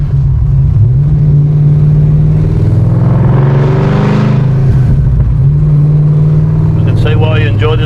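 A deep supercharged LS V8 exhaust on a Holden VF SS rumbles loudly and close up, crackles, revs up once in the middle and settles back to a throaty idle.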